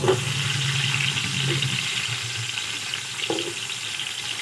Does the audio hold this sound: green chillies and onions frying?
yes